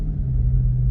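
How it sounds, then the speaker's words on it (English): A small Honda car engine revving, a steady low rumble sustained and fairly loud with no other sounds over it. "just this little Honda trying to rev his engine"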